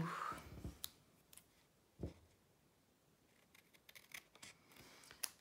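Quiet, close snips of scissors trimming paper for a scrapbooking card, a few isolated cuts and then a quicker run of small snipping clicks, with no voices.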